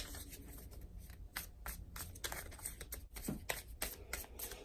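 Tarot cards are shuffled by hand, a quiet run of quick riffling bursts and papery flicks that come in uneven clusters, close up and alone with no talking.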